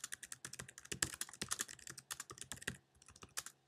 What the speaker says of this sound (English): So let's type up a couple things.